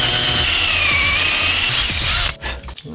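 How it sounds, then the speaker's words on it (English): A power drill whines steadily at close range while boring a hole to hold an epoxied nut for a homemade utility knife; the pitch dips and wavers under load, then the motor cuts off, leaving a few scraping handling sounds. "now I'm gonna be drilling out a hole right here to epoxy this nut"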